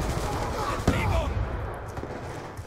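Rapid automatic gunfire and scattered shots ring out in a Call of Duty Black Ops 2 online match, a dense crackling burst over steady game noise that thins out toward the end.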